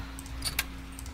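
Keys jangle briefly as a key is picked up in the horror video game True Fear, a few light metallic clinks close by and fairly quiet, with no voices.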